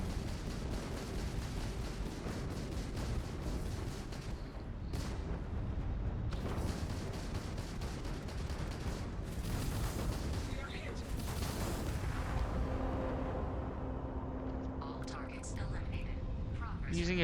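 Missiles fire during space combat in the game Starfield, giving repeated rumbling bursts and booms in an uneven sequence alongside a talking voice.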